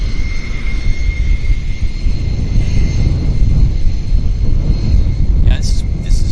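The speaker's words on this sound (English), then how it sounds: "Now turning on to the active, heading to Victoria. It's WestJet 3279 Encore." WestJet Encore airliner turning onto the active runway at Vancouver YVR, a loud continuous low engine rumble with a steady whine, heard from nearby, with a brief higher chirp near the end.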